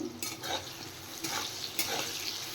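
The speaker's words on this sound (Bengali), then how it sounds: "এদিকে আমি বেগুন ফ্রাই করে নিচ্ছি" Eggplant frying in a pan, a steady sizzle with scraping stirs and light utensil clatter, moderately close, with no talking.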